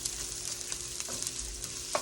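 Chop suey frying in a very hot wok over medium-high heat: a steady, close sizzle with soft stirring scrapes, and a sharper clatter near the end.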